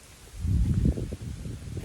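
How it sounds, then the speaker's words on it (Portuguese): Wind gusts rustling through leaves outdoors, a low, soft rumbling roar that swells over the first second and then settles into a steady, gentler rush. "Olha o vento respondendo."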